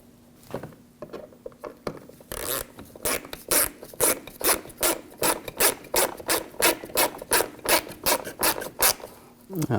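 Screws threaded by hand into a fog light housing on a 2006-2009 Audi S4, giving a steady series of short rasping, rubbing strokes in close, rhythmic bursts with no speech.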